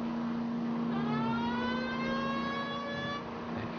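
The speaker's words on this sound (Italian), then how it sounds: "All'incrocio mettiamo un po' di sirena" A police car siren wails in the video game L.A. Noire, a steady rising and falling electronic tone running over a continuous engine drone, loud and sustained with no talk.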